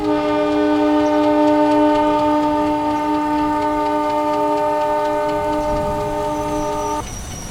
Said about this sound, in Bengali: অন্ধকারে ধুঁকতে ধুঁকতে ট্রেনটা যখন রামগড় স্টেশনে এসে পৌঁছালো